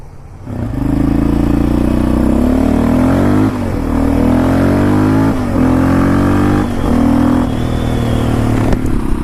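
A Yamaha Raptor 700 quad's engine rides out toward a wheelie spot, loud and close, with repeated rev rises and drops in a steady rhythm of gear pulls, running alone with no talk.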